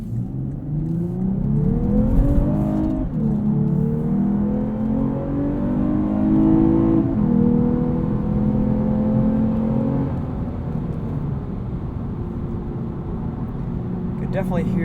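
A 2021 Lexus IS 350 AWD F Sport in Sport Plus mode, its engine heard from inside the cabin as it accelerates, rising through the revs, dropping at upshifts, then climbing again before settling into a steady cruise.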